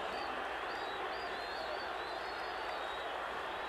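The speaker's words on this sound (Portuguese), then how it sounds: "Alcides Antunes olha a torcida do Vasco. Tá aí a torcida." Vasco football supporters roar in a packed stadium during the 1994 Campeonato Carioca decider against Fluminense, a steady, dense crowd wash with whistles rising above it.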